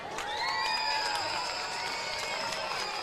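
A crowd cheers and applauds at a youth football game for the fifth and sixth grade football team and cheerleaders, a steady wash of noise for about three seconds with sustained ringing tones over it.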